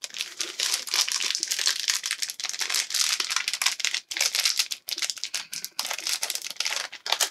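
Packing tape wrapped around a comic book package crinkles and tears as it is pulled apart, a dense, loud, close rustle that continues almost without pause, broken only by brief gaps.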